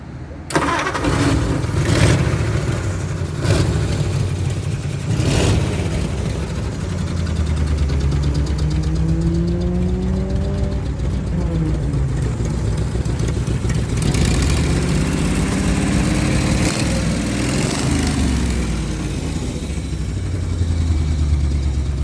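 A 1930 Ford flathead engine cranks and fires, then settles into a steady, lumpy idle with a low rumble, rising briefly with a couple of revs.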